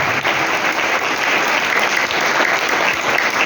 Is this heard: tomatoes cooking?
no